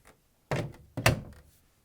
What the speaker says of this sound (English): Now we're going to close the door.